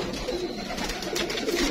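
Pigeons coo steadily in a breeder's loft, a soft continuous murmur of several birds close by with no voices over it.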